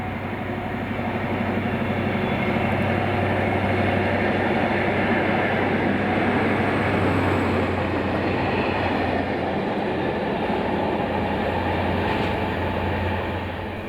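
Rail Adventure's class 43 locomotives 43465 and 43484 haul a rail vac train at Green Falls, a steady loud rumble of engines and rolling wagons filling the whole stretch with no break.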